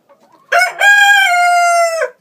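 A backyard chicken out in the snow gives one loud, close crow that rises sharply and holds steady before dropping off, with a soft cluck just before it.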